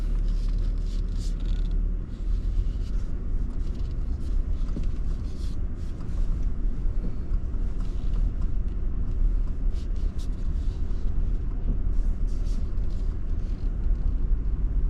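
Steady, loud road rumble and wind buffeting from a 2024 Nissan Frontier Pro-4X on the move, picked up by a camera mounted on its window, with a continuous low drone and no voices.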